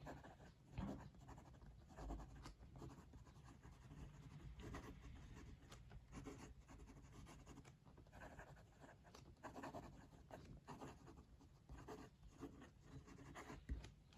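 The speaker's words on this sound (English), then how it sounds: "Let's do some writing." Majohn Moonman V60 fountain pen with a wet-writing fine nib scratching across paper, a steady close run of soft strokes and scrapes with brief pauses between words over fourteen seconds.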